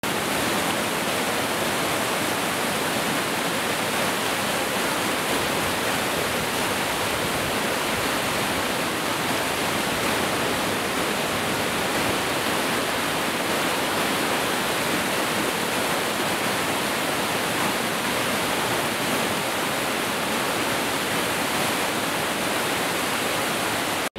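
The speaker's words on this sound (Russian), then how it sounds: "Это была река Муруджу." Mountain river in the Caucasus rushing steadily, a dense, continuous roar of water with no pauses, loud and close throughout.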